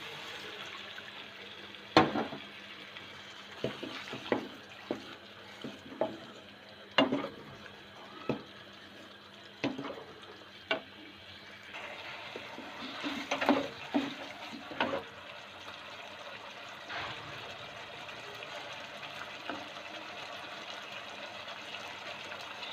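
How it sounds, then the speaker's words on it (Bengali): Water poured into a cooking pan for chicken kofta curry, a soft liquid trickle with clinks and taps of utensils, fairly quiet throughout with no talk. "এবার দিয়ে দেবো সামান্য একটু জল"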